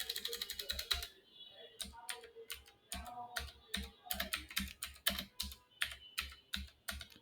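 Rapid clicking of keys on a computer keyboard, close and crisp, in quick bursts with a short pause near the start, with no talking over it.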